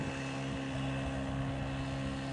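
A motorboat engine drones steadily at a distance on a fishing lake, a low continuous hum with a constant tonal whine, no voices.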